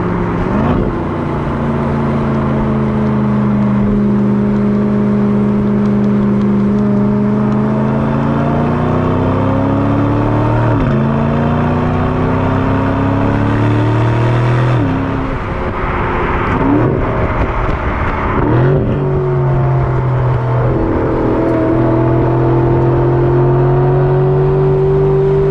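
An Aston Martin DB12, highest specced, driving and accelerating, its engine loud and close with rising revs, gear changes and repeated climbs in pitch over a sustained drone.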